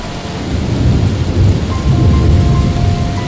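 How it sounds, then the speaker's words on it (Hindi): Heavy rain pours steadily while deep thunder rumbles and rolls loudly underneath, a dense, continuous storm with no voices. "ये तो बहुत तेज बारिश हो रही है।"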